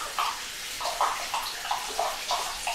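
Tap water runs and splashes steadily as an aquarium power filter is rinsed with plain water, with no soap. The flow is fairly close and of moderate loudness, with small rhythmic splashes as the filter is turned under the stream.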